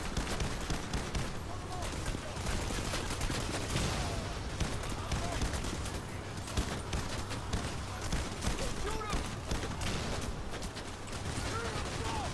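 Gunfire in a video game as a steady, dense crackle of shots mixed with explosions that goes on without a break, fairly faint and blurred together.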